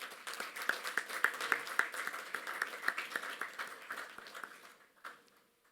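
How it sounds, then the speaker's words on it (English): Applause from an audience at an interfaith education forum in Pune, India: a moderate spread of hand claps with some sharper individual claps standing out, steady for about four and a half seconds before fading away. "Please, can we have a huge round of applause for her?"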